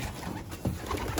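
Pet pigeons or doves cooing close by, soft low murmuring coos repeating in a busy, noisy space.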